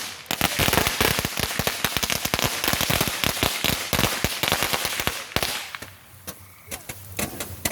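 July 4th firecrackers crackle in a dense, loud barrage of sharp pops, thinning into scattered bangs with brief gaps toward the end.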